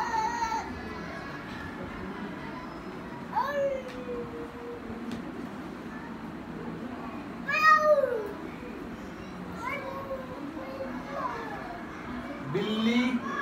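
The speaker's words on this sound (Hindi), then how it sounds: "बिल्ली" Domestic cat meowing several times in short, rising calls spaced a few seconds apart, moderately close, over a steady background hiss with faint talk; used as a sound in a hearing-impairment training session.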